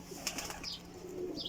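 Soft pigeon coos sound close by in a breeder's loft with a few brief chirpy calls, faint and alone without talk.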